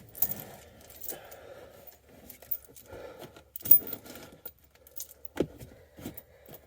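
Loose metal bolts and screws being gathered by hand from the interior of a Subaru WRX during a GF8 engine swap, with sparse faint clinks, rattles and scrapes separated by quiet gaps.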